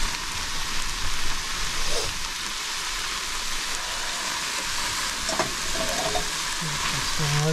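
Cubes of plant-based Beyond Meat sausage fry in a pan inside a van in the Nevada mountains, giving a loud, steady, dense sizzle with a few faint clinks.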